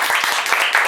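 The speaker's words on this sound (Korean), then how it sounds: "박수!" Brief burst of audience clapping at a Rubik's cube seminar, quick and fairly close, with a few distinct claps standing out from the patter.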